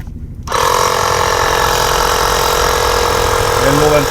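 An air compressor kicks on abruptly and runs at a steady, loud, close drone while inflating a 2-liter plastic bottle target inside a safety bag, with a faint rising whine near the end.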